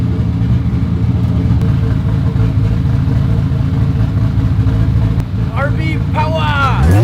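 A Nissan Skyline RB engine runs after a spark plug change, a loud steady close rumble throughout, with a voice speaking over it near the end.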